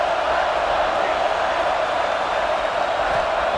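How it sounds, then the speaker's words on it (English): A stadium crowd in a College Football 26 simulation of Ohio State vs Michigan roars loudly and steadily during a red-zone defensive stand, with the noise sustained and unbroken. "And here comes the noise. This crowd is trying to inspire this defense to make a big red zone stop."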